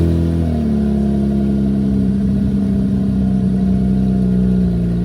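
Steady, loud engine drone from a Flowmaster American Thunder exhaust on a lowered 2018 Dodge Challenger GT with the 3.6L V6, holding a low rumble that shifts pitch slightly as it settles, with no talking.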